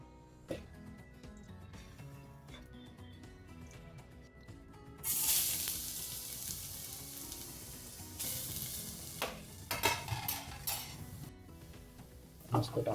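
Gajar halwa (carrot pudding) stirred in a hot pan, sizzling up loudly about halfway through, with spoon scrapes and clanks against the metal and a steady frying hiss underneath.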